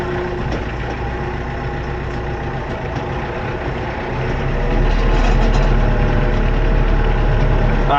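A heavy vehicle engine idles close by with a steady low rumble, growing slightly louder and deeper partway through; no talking.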